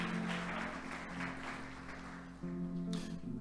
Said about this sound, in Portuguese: A igreja pode aplaudir ao Senhor por isso.